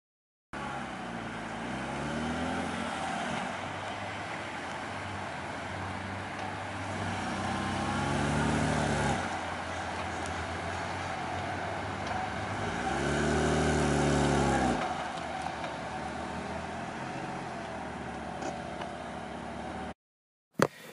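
A manual-transmission car creeps along in first gear, its engine droning steadily and rising in two slow surges before cutting off.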